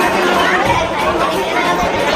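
A crowd chatters at the east gate of the Taj Mahal in Agra, with a dense, steady murmur of many nearby voices throughout.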